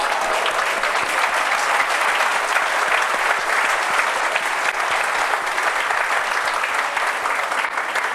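Sustained applause and cheering from a church congregation during a service in Yaoundé, a dense, steady wash of clapping that holds loud and even throughout.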